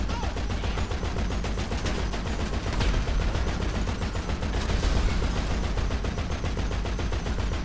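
A half-track's mounted machine gun in GTA 5 Online fires a dense, continuous stream of rapid shots, loud and close, sustained for the whole stretch with no talking over it.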